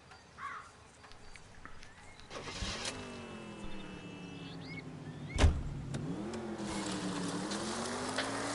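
A 1940s-era car in the video game L.A. Noire starts and pulls away, its engine rising in pitch through several gear changes at moderate distance, with a sharp thump midway and a steady running drone after.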